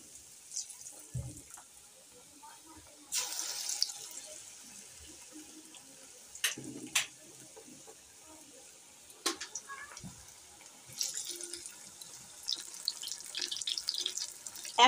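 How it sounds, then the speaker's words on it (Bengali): Moray fish pieces dipped in gram flour batter and dropped into hot oil, each drop setting off a sudden burst of bright sizzling, with quieter stretches and small clicks between bursts. "এখানে আমি তেলের মধ্যে ছেড়ে দিচ্ছি"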